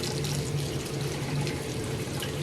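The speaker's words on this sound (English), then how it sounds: "Got hot water, very hot water running." Very hot water running steadily from a tap into a sink, a constant close rushing and splashing with no pauses.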